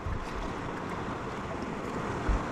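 Big, dangerous ocean waves surge and wash steadily at a fishing spot in Palawan, a continuous loud roar of surf mixed with wind buffeting the microphone, with a brief heavier thump near the end.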